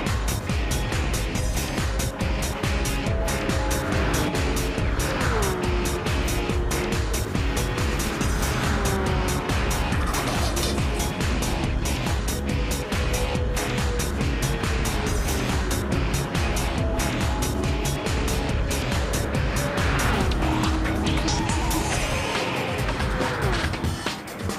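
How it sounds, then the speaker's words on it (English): Racing video game engines roar continuously and loudly as a Toyota Tundra and a Porsche 991 battle for the lead, with dense revving and shifting pitch throughout and tire noise mixed in. "You have a Toyota Tundra and a Porsche 991 battling for the lead."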